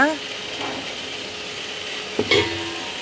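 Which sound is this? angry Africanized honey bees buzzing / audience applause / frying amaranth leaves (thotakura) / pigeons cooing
frying amaranth leaves (thotakura)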